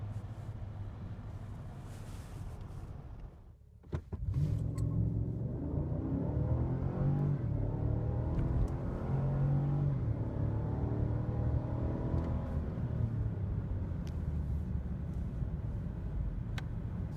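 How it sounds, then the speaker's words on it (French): 2016 Cadillac Escalade accelerating, a steady deep engine drone and rising rumble heard from inside after a brief quiet moment. "Quelle belle accélération et surtout quel beau son!"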